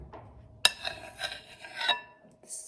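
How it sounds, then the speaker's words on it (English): Metal spoon scraping banana cream pudding from a bowl, a few short close scrapes and rubs with one sharp clink, quiet pauses between strokes. "a metal spoon and just scraping it all up"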